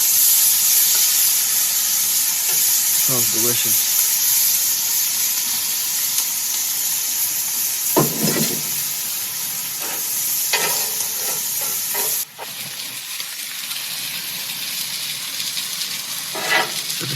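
Shrimp sizzle loudly in a pan at a winter truck camp, a constant close frying hiss broken by occasional stirring scrapes, with a brief spoken remark partway through.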